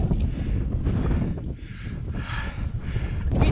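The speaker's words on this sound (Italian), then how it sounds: "Siamo arrivati con un vento pazzesco" Strong wind at about 2100 metres on the mountain plateau of Campo Imperatore roars and buffets the microphone in a continuous, loud, gusting rumble with no voices.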